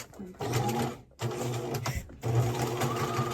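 Sewing machine running a straight stitch on swimsuit fabric in three rapid mechanical bursts separated by short pauses, close and clear, with people talking over it.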